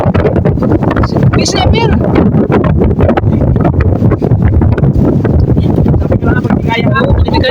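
Strong gusts roar and buffet the microphone continuously outdoors while a 9-year-old child pulls in a 7-kilo Longnos Emperor kite, with excited voices shouting over the wind throughout.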